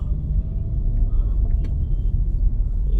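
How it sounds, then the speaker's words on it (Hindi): A car sits stuck in Delhi road traffic, a heavy low engine and road rumble from inside the vehicle, steady and loud, with faint distant traffic sounds and no talking. "ये है ट्रैफिक। अंकल जी अभी ट्रैफिक में फंसे हुए हैं"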